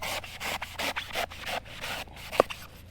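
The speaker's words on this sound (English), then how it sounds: "I'm going to just, first of all, just slice through that top just to reduce the thickness of it." A knife slices through the top of a coconut on a tropical beach with rhythmic rasping, scraping strokes, about a dozen close strokes, then a short sharp knock near the end.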